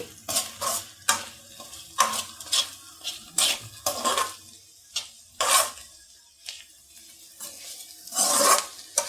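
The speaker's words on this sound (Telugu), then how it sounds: "ఇప్పుడు ఈ మసాలాను మొత్తం ఈ కాకరకాయలకి పట్టేలాగా మొత్తం కలుపుదామండి" Bitter gourd pieces being stirred with masala in a pan for an Andhra-style fry: repeated scraping strokes of a spoon against the pan in an irregular rhythm, over a light sizzle of frying, close and clear.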